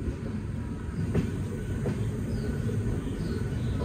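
An Indian Railways Tamil Nadu Express bound for Nagpur rolls over a diamond crossing, giving a steady rumble with a few faint clicks from the wheels. It is heard from on board, at moderate volume, with no talk.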